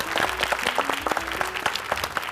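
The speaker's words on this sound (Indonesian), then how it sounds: "Tepuk tangan sekali lagi untuk Satrio." Audience applause for Satrio at a family gathering, steady dense clapping from a crowd held throughout, fairly loud and close, with no talk over it.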